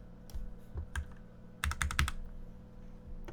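Computer keyboard typing, with scattered single keystrokes and then a quick burst of several close, crisp clicks near the mic over a low steady hum.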